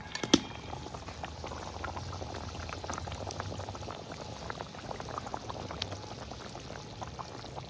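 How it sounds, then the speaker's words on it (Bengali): Red curry bubbling steadily in a pot as boal fish pieces go in, a continuous close gurgling boil with small splashes and pops, no voices. "তরকারি উতলে গেছে, মাছগুলো দিয়ে দিচ্ছি।"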